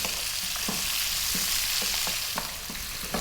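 Chopped onion fries hard in a pan for dal, a loud dense hiss broken by regular scraping strokes of a spoon keeping it moving, close and alone.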